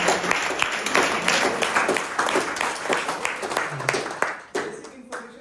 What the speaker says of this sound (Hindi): एक बार मसूदन जी के लिए जोरदार तालियां